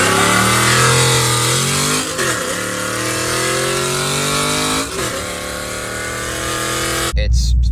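A 2010 Ford Mustang GT with 3-valve V8 and 4.10 gears revs loudly up close, climbing through gears with brief dips at about 2 and 5 seconds before a sharp cutoff near the end.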